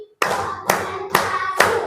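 A third-grade classroom of pupils claps in unison exactly four times, each sharp, loud clap evenly spaced about half a second apart with short ringing decays between them.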